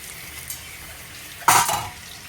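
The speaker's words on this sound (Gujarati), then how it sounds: "અહીંયા બસ હવે આટલી પેટીસ તળાઈ જાય ને એટલે આપણું આજે તળવાનું કામ અત્યારનું ડન." Farali patties fry in hot oil, with a soft sizzle underneath and a sudden loud burst of crackling and stirring midway that fades out, close by and without speech.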